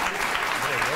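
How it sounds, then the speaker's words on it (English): Studio audience applause on a late-night television talk show, a brief, dense burst of clapping that fills the moment at close range. "You can applaud anytime you like"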